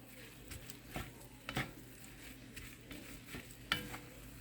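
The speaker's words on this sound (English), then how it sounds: "you just want to cook this meat until there is no pink showing at all" Ground meat for spicy chili being stirred and fried in a pan, a steady soft sizzle with irregular scraping stirs and a few sharper utensil clicks against the pan.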